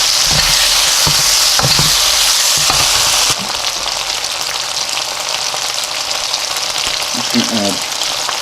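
Pork stir fry sizzling loudly in a hot pan, a dense close frying hiss with clatters of stirring, easing to a softer sizzle partway through.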